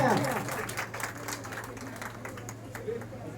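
Applause breaks out for runners-up at a PHC Barwala village award ceremony, many hands clapping in a fairly distant, moderate wash over a steady low hum, with some voices mixed in.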